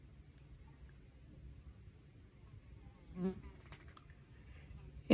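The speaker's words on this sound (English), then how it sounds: "And no, it's not a bee, it's an ugly fly." A housefly buzzes close by indoors, a low continuous drone with one brief louder pass as it flies near.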